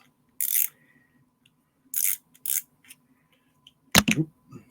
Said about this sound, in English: This is your drag system, so you're just loosening that.